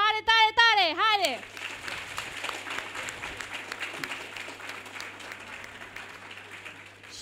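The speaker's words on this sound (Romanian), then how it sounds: "pentru că mă iubiți, o să aplaudați tare, tare, tare!" A voice sings out briefly at the start, then a youth conference audience in Bacău breaks into steady, moderately loud applause that carries on to the end.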